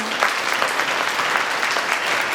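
An audience claps in thanks to the sisters and teachers, a steady, moderately loud round of dense applause with no break.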